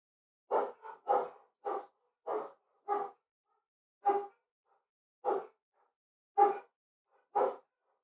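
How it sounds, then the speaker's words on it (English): Dogs barking in short single and double woofs, about a dozen spaced through the stretch with quiet gaps between, heard alone at moderate distance with no talk over them. "Dogs are going absolutely crazy."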